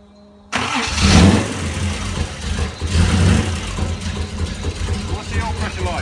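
A Triumph TR6 with a newly replaced oil pump cranks and fires on choke, then settles into a loud, close, throbbing idle with slight revs.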